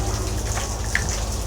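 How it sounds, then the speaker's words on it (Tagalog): Steady rain falls with a constant hiss and patter, a few individual drops standing out briefly. "Ingay kasi umuulan."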